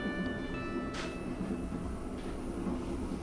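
Riding inside a Taksaka executive passenger train, a steady low rumble of the carriage rolling along the rails fills the space, faint and continuous with a brief high whine.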